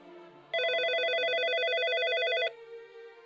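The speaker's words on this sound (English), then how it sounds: "The phone rang." A telephone rings once in a single sustained two-second electronic burst, loud and clear over a quiet room.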